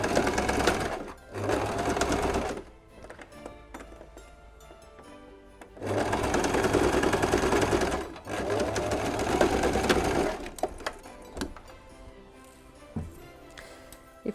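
A domestic sewing machine stitches fabric for an elf stocking in loud bursts of rapid whirring, separated by short quiet pauses with small handling clicks.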